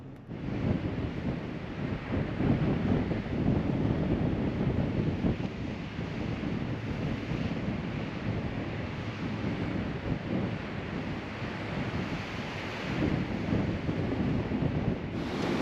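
Ocean waves on a calm stretch of shore, a continuous broad wash of surf with heavy wind buffeting the microphone throughout.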